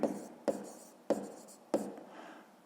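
A pen scratches across a notebook page during a fifth-grade maths exercise, four short scribbled strokes spaced about half a second apart, close and quiet with no voice.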